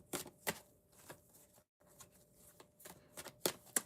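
Playing cards being shuffled at close range during a casual tarot-style reading, a series of sharp riffling bursts and soft slaps in an uneven rhythm, with a brief pause midway and no voices.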